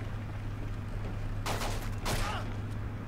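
A short, dense burst of gunfire from a video game shooter match, two rapid volleys close together about a second apart, loud against a constant background hum.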